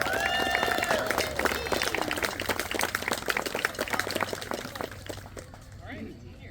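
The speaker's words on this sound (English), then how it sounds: "Our seniors, give a big round of applause." An outdoor audience applauds the seniors of a marching band at a park, dense clapping and crowd noise under voices and shouting, fading a little toward the end.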